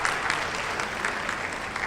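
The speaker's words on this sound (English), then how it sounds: "Okay, a round of applause for Kathy." Audience applause for Kathy at a legal representation talk, a steady wash of clapping from a crowd with no pauses, moderately loud and alone without speech.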